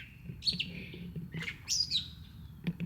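Small birds chirp outdoors in short, bright calls with rising and falling whistles, heard fairly quietly in a few separate bursts over a low background rumble.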